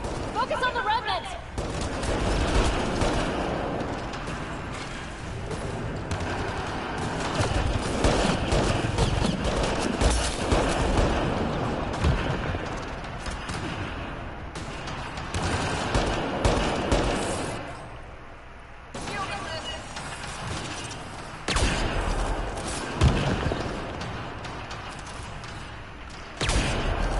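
Turret gunfire in the sci-fi shooter Mass Effect Andromeda, dense bursts of shots running through most of the stretch amid battle noise, with voices talking over it and a brief lull partway.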